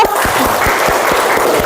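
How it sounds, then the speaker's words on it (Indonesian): Classroom applause from a group of students, a steady patter of many hands clapping for about two seconds at moderate loudness, with no talking over it. "Ya, tepuk tangan dong."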